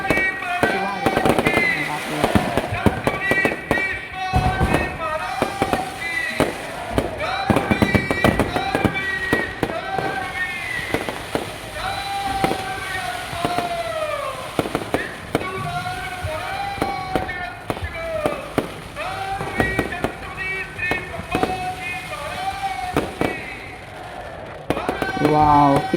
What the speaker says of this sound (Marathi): किती भारी फटाके होते ते.